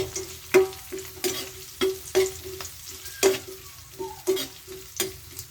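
Dried squid sautés with garlic and onion in a pan. A steady sizzle is broken by a regular run of sharp spatula scrapes and clinks, close and alone.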